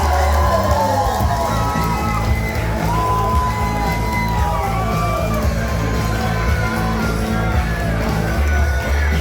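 At a hot pepper eating contest in Brasiervil, a crowd cheers and shouts for a contestant with loud, sustained yelling and whoops. Scattered voices rise above the din throughout.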